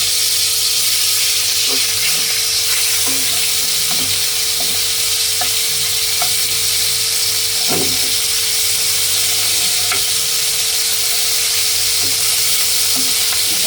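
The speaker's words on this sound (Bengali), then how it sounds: "মাছটা ভালো করে ভেজে নেব।" Fish frying in a hot pan of oil, giving a steady close sizzle with scattered pops and occasional light scrapes across the whole span, no voices.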